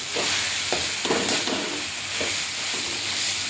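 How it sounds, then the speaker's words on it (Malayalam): A spoon stirs tomato masala for a tomato chutney in a pan after the gas is turned off, with a soft residual sizzle and several distinct scraping strokes, close and alone. "ഗ്യാസ് ഓഫ് ചെയ്തിട്ട് ഇളക്കി കൊടുക്കാം."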